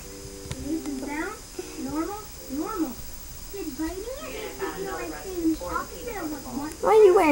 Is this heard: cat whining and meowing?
yes